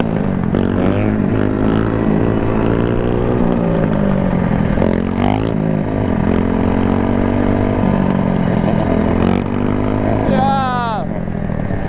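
A 2-stroke dirt bike engine is ridden hard, its loud buzzing note rising and falling through repeated revs and gear changes, with a final sharp rev climbing near the end.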